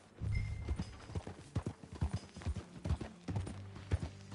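A ridden horse's hooves clip-clop in an irregular walking rhythm, fairly close and clear, with faint rustling in between.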